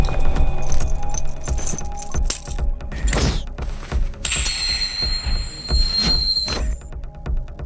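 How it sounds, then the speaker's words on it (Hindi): Car keys jangle and clink close by in repeated metallic bursts, with a brighter, sustained rattle toward the end over a busy background. "गाड़ी की चाबी।"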